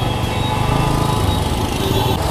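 Congested road traffic with idling and revving motorcycle engines, including a Pulsar N160, forming a steady, close, continuous engine drone without talk.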